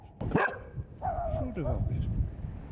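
A dog in an abandoned, shelled town gives a sharp bark followed by whining, yelping calls at close range, while a person talks in the background.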